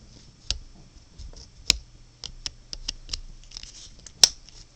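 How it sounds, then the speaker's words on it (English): Small razor blade trimming excess material off a DIY Rubik's cube, giving a series of sharp, close clicks and snips spaced unevenly across a quiet background. "I have a little razor blade. Just cut off the excess."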